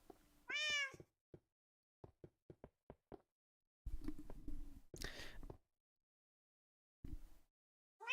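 A cat gives a clear, close meow at the start, followed by a run of sharp knocks or taps, then later bursts of noisy rustling and a short squeaky sound, separated by silence.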